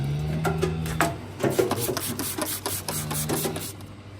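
A hoof knife slices through the horn of a cow's hoof while a white line lesion is trimmed out, giving close, dry rasping scrapes in several strokes.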